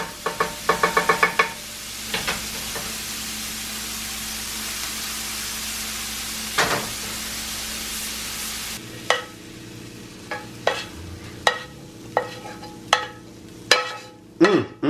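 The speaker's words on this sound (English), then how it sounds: "now I'm going to add this to the crock pot along with the turkey wings" Ingredients dropped and stirred into a crock pot with turkey wings, including onions and peppers: a steady hiss and clatter for several seconds, then a quieter stretch punctuated by a regular series of sharp spoon knocks against the pot.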